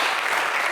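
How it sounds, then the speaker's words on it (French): Brief burst of applause from an audience at a French entertainment show, honoring a production colleague; dense, steady clapping fills the short moment with no voices. "J'aimerais qu'on applaudisse notre collègue."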